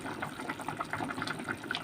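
Tamarind water, made from mashed sampalok, is poured into a pot for sinigang, giving a soft, steady trickling and splashing stream at close range.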